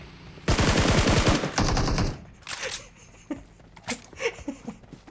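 Rapid automatic gunfire in a mobile shooting game bursts out in a loud, dense volley, followed by a shorter burst and then scattered single shots and clicks, with no voices.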